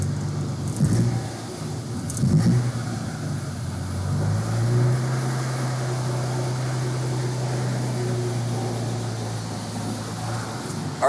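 A tuned car's engine idles steadily at its first startup, then a low drone rises and holds as it is put in first gear and creeps forward a foot under its own power, with a faint fan running.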